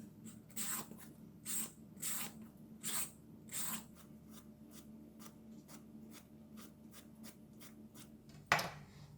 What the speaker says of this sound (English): next we're going to cut the luffa